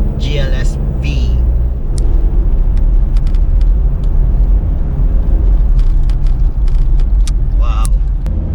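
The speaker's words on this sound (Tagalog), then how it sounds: "Driving the 2014 Mitsubishi Montero GLS V." A 2014 Mitsubishi Montero Sport GLS V on the move, with a steady, loud low engine and road rumble throughout and brief voices near the start and end.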